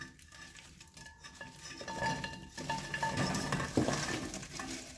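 Whole cranberries tumble into a pot, a quiet scatter of soft clinks and rattles against the metal that builds and thickens over a few seconds, close by with no voices.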